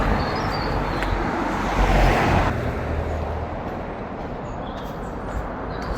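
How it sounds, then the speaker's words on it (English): Traffic on a newly resurfaced road with buses passing, a steady broadband rumble and tyre hiss that swells briefly midway as a vehicle goes by, then settles to an even wash, with no talking. "Listen to this bit of road here that has just been resurfaced about a week ago."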